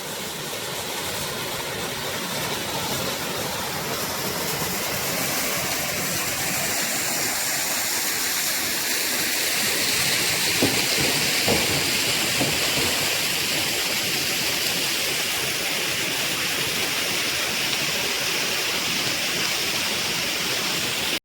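The Narmada river rushes loudly and continuously at close range during a pilgrimage walk near Amarkantak, a dense, unbroken roar of flowing water with no talking.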